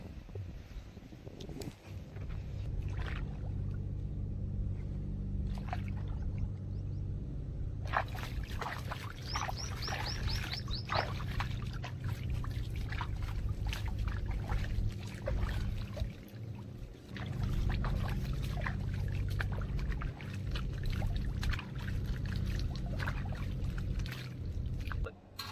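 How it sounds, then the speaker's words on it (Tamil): Water runs steadily through a village irrigation canal, a continuous rushing and trickling wash that fills most of the stretch, with brief chirps and occasional speech. "அப்படி இந்த வாய்க்காலில் தண்ணி போகுது"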